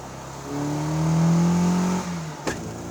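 A 1980 Austin Mini accelerating hard, its small engine revving up in a rising whine that peaks and then drops with a gear change, heard from inside the car with a brief knock near the end.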